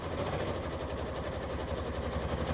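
A sewing machine runs steadily as it stitches a single seam down the side of batting pieces, giving a fast, even mechanical hum and rapid rhythmic ticking, close and uninterrupted.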